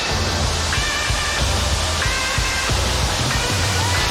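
Ocean waves breaking at Bondi Beach, Sydney, where a body-surfing rescue show is filmed, form a steady, loud wash of surf that fills the whole stretch, with faint tonal whistles drifting through it.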